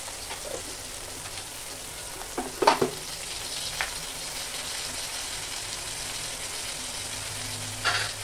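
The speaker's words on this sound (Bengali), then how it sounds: "এর মধ্যে এখন দেবো আদা রসুনের পেস্ট," Ginger garlic paste fries with okra, eggplant, carrot and drumstick for sambar, a continuous close sizzle broken by a few sharp stirring scrapes near the middle and end.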